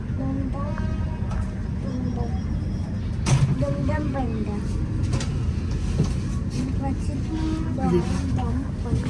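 A train rumbles steadily along near Dum Dum with a constant low roar and occasional clatter, while passengers talk and chatter nearby over the noise.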